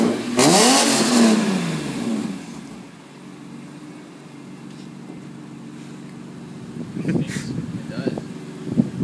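A BMW E46 M3 fitted with AP headers and Borla mufflers roars through one loud, close rev, then drops to a steady burbling idle while people talk over it near the end.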